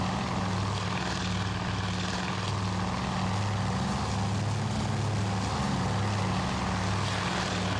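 WWII aircraft engines drone in the naval air-combat game Task Force Admiral, a steady, loud, throbbing propeller hum with a low pulsing beat that continues unbroken and without voices.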